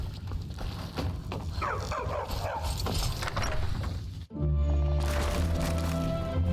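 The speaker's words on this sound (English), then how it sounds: "Get out of my way, Bone Dog." A skeletal bone dog in Skyrim barks and yips repeatedly amid busy game sound, cut by a brief gap before a denser, louder stretch of in-game noise.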